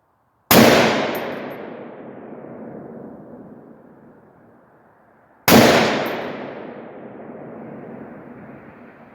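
Two sharp, loud gunshots from a Palmetto AR rifle fired with Freedom Munitions ammunition, each a crisp crack followed by a long rolling echo outdoors, spaced about five seconds apart with no talking.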